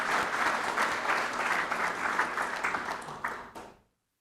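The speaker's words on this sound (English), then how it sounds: "Let's give a round of applause" Audience applause fills a town State of the Town address in Historic Florence, a dense, steady burst of clapping from many hands that holds strong for about three seconds, then thins and fades quickly into silence.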